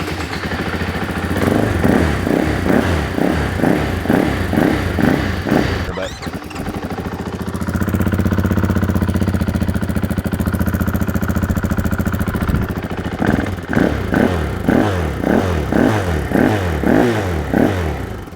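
A KTM 500 motorcycle on its stock exhaust runs inside a garage, rhythmic thumping idle broken by a long revving stretch in the middle before settling back to a lumpy, muted putter.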